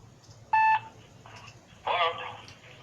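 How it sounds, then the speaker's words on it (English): A telephone auto-dialer placing a cold call gives a short beep-like tone burst, followed after a pause by a louder burst of ringing tone, both under a low steady hum. "the dialer is going, even though it's silent"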